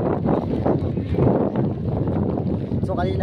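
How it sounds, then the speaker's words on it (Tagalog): Strong wind gusting outdoors on a rainy street in Manila, a loud rushing roar buffeting the microphone, with a person speaking through it. "ngayon lumakas na yung hangin tuloy at umuulan na talaga"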